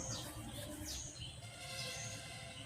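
A small pet bird, a lovebird kept indoors, gives a few faint, quick high chirps over a quiet low background rumble, soft and sparse across the short stretch.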